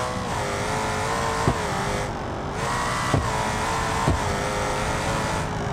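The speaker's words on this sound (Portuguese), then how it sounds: "Cada troca de câmbio é um pipoco, hein?" Mustang engine in BeamNG.drive droning steadily under hard acceleration, with three sharp pops at gear shifts spaced about a second apart, loud and close with no talk.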